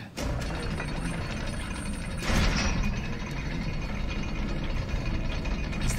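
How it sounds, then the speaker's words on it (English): A lever being pulled in Resident Evil Village, giving a steady ratcheting, geared mechanical grind that lasts throughout, with a louder clunk partway through. "Let me pull one of these levers or something bad happens."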